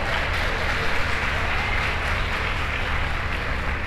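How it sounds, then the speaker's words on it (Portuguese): Applause from a church congregation during a sermon: steady, dense clapping from many hands filling the room, sustained and fairly loud throughout with no talk over it. "Dê um aplauso ao Senhor por isso."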